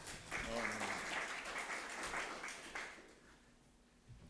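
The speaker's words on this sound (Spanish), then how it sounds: "Estos aplausos preventivos, en este caso, son bastante arriesgados" Audience applause at a talk on nineteenth-century racecourses in Argentina, a dense wash of clapping from a crowd that swells near the start, holds steady, then fades out over several seconds.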